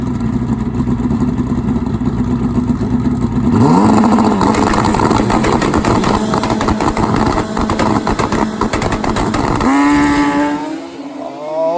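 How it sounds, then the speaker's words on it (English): Drag-racing motorcycles, a nitrous bike against a 700+ hp turbo Hayabusa, idle and rev loudly, then an engine rises in a sharp accelerating scream before fading as the bikes pull away; no speech. "Nitrous bike versus the turbo."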